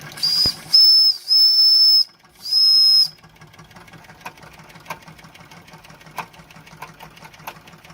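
A shrill whistle on a vintage Wilesco D10 toy steam engine blows in several short and longer blasts, then gives way to the quiet ticking and chuffing of the small engine.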